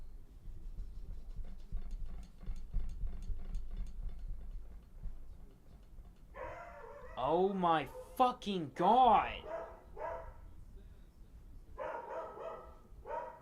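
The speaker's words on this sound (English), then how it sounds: "Those dogs barking have never done anything worthwhile." Dogs bark outdoors in a series of sharp, arching yelps in the middle of the stretch, fairly close and loud, while a person speaks over a low background hum.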